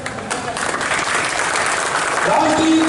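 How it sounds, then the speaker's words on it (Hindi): A crowd claps loudly and continuously at an Independence Day ceremony in Balaghat, forming a steady, full wash of applause that swells slightly toward the end, with a voice faintly underneath. "जोरदार तालियों से स्वागत करें।"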